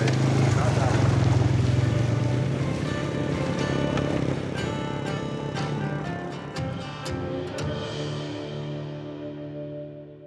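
Boat engines on a river start up and run with a strong low drone, and rattling mechanical bursts come in as the motors catch, while people speak over the noise.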